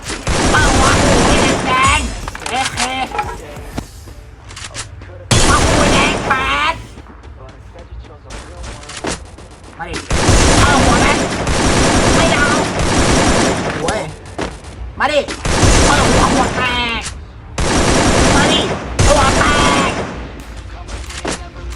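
AK rifle fire in the Free Fire video game comes in loud bursts of rapid shots broken by brief pauses, while a player talks excitedly over the shooting.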